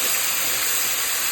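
Tomatoes frying in hot palm oil for a Congolese matembele dish, a loud, steady, close hiss that holds without a break.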